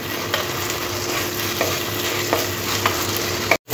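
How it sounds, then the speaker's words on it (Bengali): Onion fried with ginger garlic paste is stirred in a pan for spicy masala chicken, a steady close sizzle with soft scraping strokes of the spoon, no voices. "আদা রসুন বাটাটা খুব ভালো করে মিশিয়ে নিতে হবে পেঁয়াজের সাথে"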